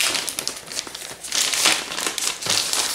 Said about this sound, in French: Donc voilà notre pièce neuve, on va la déballer.